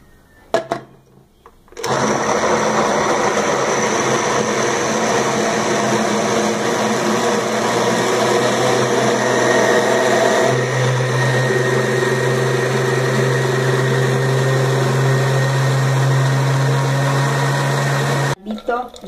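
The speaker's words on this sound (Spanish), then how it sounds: "Vamos a moler." A kitchen blender grinds onion and garlic for vegetable soup, a loud steady whir that runs continuously for most of the clip, with the motor pitch shifting partway through.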